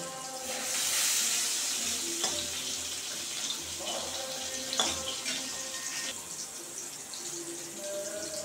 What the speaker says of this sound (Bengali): আমি ফোড়নের জন্য সরষের তেল দিয়ে দিলাম, আর 3টে শুকনো লঙ্কা ফোড়ন দিয়ে দিলাম